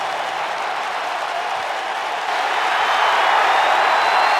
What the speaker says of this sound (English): This crowd is red hot for the return of the WWE here tonight.